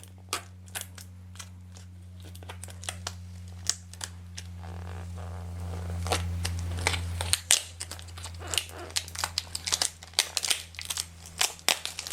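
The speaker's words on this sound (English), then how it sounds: "Smooth that down, and then we can take our transfer tape off." Transfer tape is peeled off a vinyl decal freshly applied to a curved surface, heard close up as a string of sharp crinkling crackles and tearing snaps, sparse at first and denser and louder toward the end.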